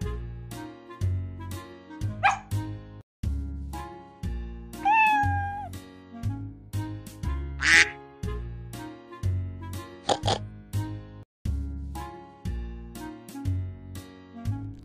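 Recorded cat meows ring out several times over a bouncy children's song with steady backing music, and no dog barking stands out.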